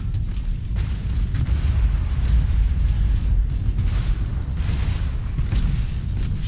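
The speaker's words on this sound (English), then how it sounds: "Nova cannon barrage." Nova cannon barrage in the space battle game Battlefleet Gothic Armada 2 rumbles as a sustained heavy roar of deep booming explosions, loud and continuous without any talk.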